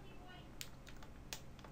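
Typing on a computer keyboard comes through as a few faint, sharp key clicks over a low background hum, quiet and sparse.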